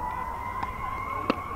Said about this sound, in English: Ambulance or fire truck, probably an ambulance heading toward from Champlain toward Rouse's Point area on Route 11.